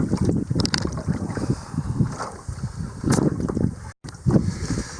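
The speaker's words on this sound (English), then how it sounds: "it is a little bit blustery out here" Gusty wind buffets the microphone outdoors by open water, a steady low rumble with rising and falling gusts and a brief dropout near the end, with no voices.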